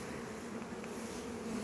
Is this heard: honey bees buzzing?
yes